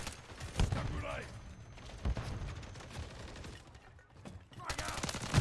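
Gunfire in Call of Duty Modern Warfare 3, a few sharp bursts and shots spaced out over quieter battle noise, fairly faint overall, with shouted voices between them.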